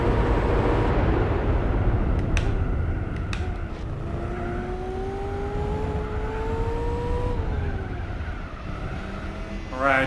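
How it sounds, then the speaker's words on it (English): A racing car engine in Gran Turismo 4 drones steadily and shifts pitch as the car fishtails through a corner, the tone rising slowly before dropping, with faint tyre and curb noise. "car's fishtailing"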